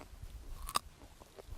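Crisp, close crunch of someone biting into a raw winter radish pulled from a snowy field, one sharp bite followed by softer chewing, quiet and alone.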